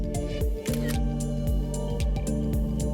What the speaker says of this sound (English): just have to press the shutter button then and repeat my ride.